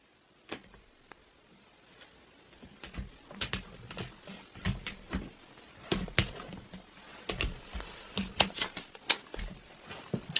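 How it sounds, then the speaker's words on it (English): Tarot cards cut and shuffled by hand, a quiet sequence of sharp flicks and soft taps, sparse at first and then in faster clusters, heard close in a quiet room. "I'm going to cut these because these cards are hard to come out."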